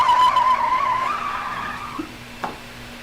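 Car tires skid under hard braking, a strained squealing tone sliding downward over about two seconds, then a short thump near the end; loud and close, with no voices.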